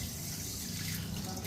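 A kitchen tap runs steadily into a sink while dishes are washed, a continuous close splashing rush with no pauses.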